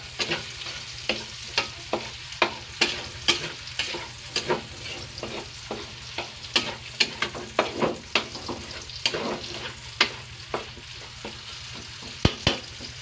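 Ham pieces sizzle and fry in a pan for a ham and hotdog omelette, with a steady frying hiss under repeated sharp clinks and scrapes of stirring, close and fairly loud.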